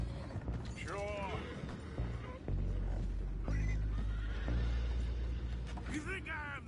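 Horses whinny several times in the video game Red Dead Redemption 2 amid clattering, creaking mechanical noise from a boat and the thud of hooves, with voices talking over the scene.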